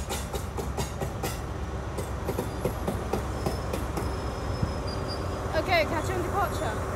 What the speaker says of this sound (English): It's a class 43 castle set.